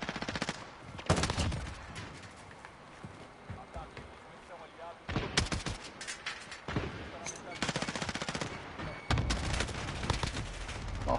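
Gunfire in Call of Duty Modern Warfare, with repeated loud bursts of automatic fire and single shots spread across the clip, while a player talks over the shooting.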